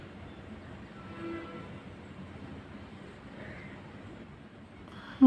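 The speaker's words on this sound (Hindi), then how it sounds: "रेलगाड़ी," A train passes as a continuous rumbling, rolling rail noise at moderate distance, with a sudden loud burst at the very end.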